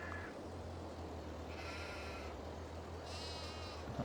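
Sheep bleat in the farm video game Farming Simulator 22, a few short wavering calls heard alone over a low steady hum, fairly faint and spaced apart.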